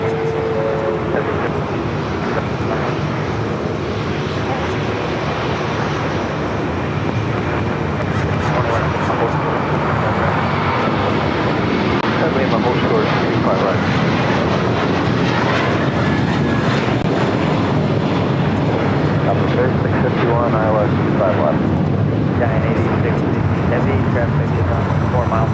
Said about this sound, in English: Our next takeoff, JetBlue, flight 1388, A321, heading to Boston.